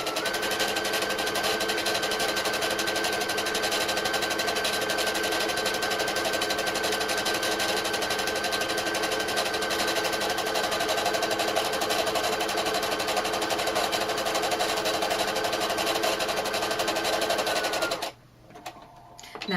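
A sewing machine runs steadily, zigzag stitching fabric for a round moon-shaped clutch bag, a close, even mechanical whir and rapid ticking lasting most of the time before stopping abruptly near the end.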